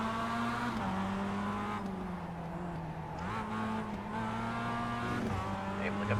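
Production race cars in the iRacing sim racing game battle side by side, with steady droning engine tones rising and falling through gear changes and a brief tire squeal, while a voice commentates over the racing.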